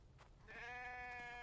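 A sheep bleats in the video game The Infected, a single sustained, harmonic-rich cry that holds steady for about a second after a few softer sounds.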